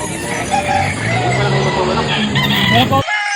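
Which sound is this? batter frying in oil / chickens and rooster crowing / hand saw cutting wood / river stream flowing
chickens and rooster crowing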